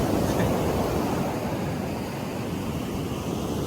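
Atlantic Ocean surf washes onto the beach at Cape Hatteras National Seashore in a continuous, broad roar, with wind buffeting the microphone.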